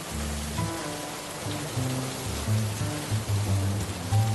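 Rain falls over a village in a cartoon, a steady patter under low music-like tones and a faint rumble, moderately loud and unbroken.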